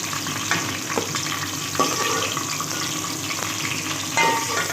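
Okra sautéing in a pan for tamarind curry gives a steady, close sizzle, broken by a few sharper scraping bursts as it is stirred.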